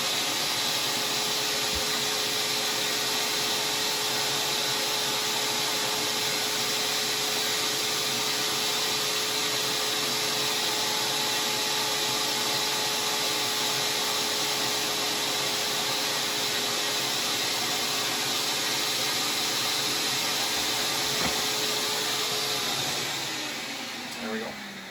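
A vacuum sealer draws air from a rice storage bag with a loud, steady motor hiss and hum that holds level for over twenty seconds, then tapers off at the end.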